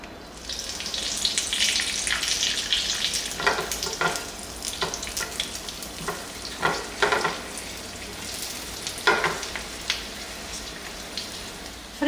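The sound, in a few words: ancho chiles frying in a pan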